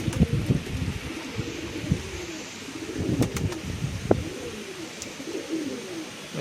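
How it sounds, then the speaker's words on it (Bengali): Large pigeons with clipped wings and tails coo in repeated soft, throaty rolls close by, with a few short sharp clicks and light wind around them. "তো এগুলো সব বিরাট পায়রা, ওই জন্য ডানা এবং লেজ কাটা আছে"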